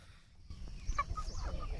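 Free-range desi fighter chickens on a village farm, a few short clucks and squawks at close range over low rumbling background noise, lasting under two seconds.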